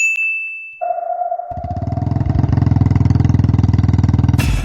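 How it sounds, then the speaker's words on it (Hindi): A ringing ding gives way to a motorcycle engine starting up, then idling with a steady, close, throbbing putter. "फिर निकाल लाया किस्तों पर नई नवेली बाइक"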